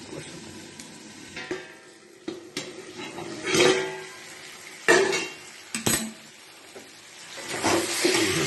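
Pan of cooking prawns with a lid set on top, giving a few sharp metallic knocks and scrapes over a steady low sizzle, close and fairly loud.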